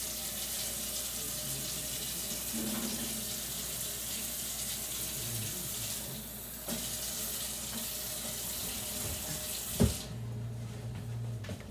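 Steady rushing of 1.5 cups of water pouring into a pan, a continuous splashing stream with a brief clank near the end, then the flow changes tone.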